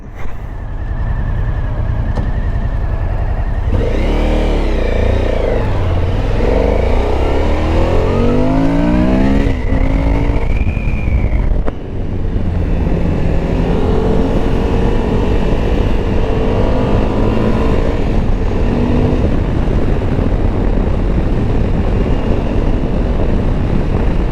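Suzuki V-Strom 1050 DE motorcycle engine pulling away and accelerating through the gears, with rising and falling revs, a brief pause around a shift, then steady cruising under constant rushing wind, loud and close.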